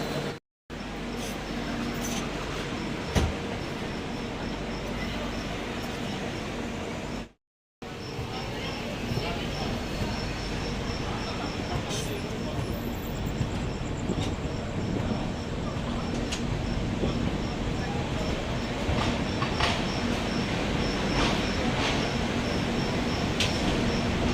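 The Howrah–Amritsar Mail passenger train rumbles and rattles steadily along the rails arriving at Raniganj station, with faint voices mixed in and a brief drop to silence partway through.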